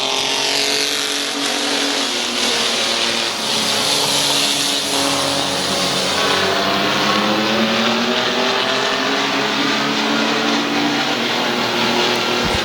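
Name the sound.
race cars racing at Midvale Speedway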